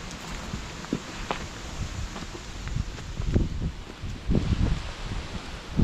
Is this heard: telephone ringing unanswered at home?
no